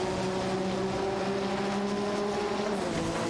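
Porsche 961 LM and Ferrari F40 Competizione race cars in a racing video game, their engines droning steadily and loud throughout with a sustained tonal whine, no voices.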